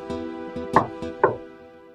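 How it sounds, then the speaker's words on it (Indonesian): Knocking on the wooden door of a house, two pairs of sharp knocks in quick rhythm, close and clear with short tails between them. "Begitu dia pergi, dia mengetuk pintu rumah itu."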